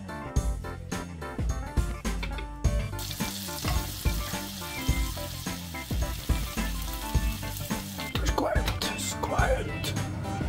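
White bread croutons fry in butter in a pan, giving a steady close sizzle with repeated scraping stirs and clinks throughout, while a person talks in German.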